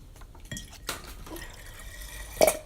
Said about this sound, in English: We just drained most of the water